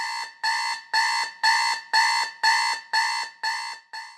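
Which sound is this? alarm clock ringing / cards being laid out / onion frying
alarm clock ringing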